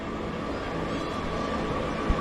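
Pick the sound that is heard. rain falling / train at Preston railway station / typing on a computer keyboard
train at Preston railway station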